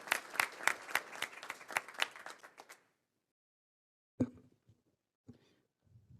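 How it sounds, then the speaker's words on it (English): Audience applause at a school district governing board meeting, a lively burst of many hands clapping for about two and a half seconds that stops abruptly, followed by silence, a few thuds and faint sounds. "give these ladies a round of applause"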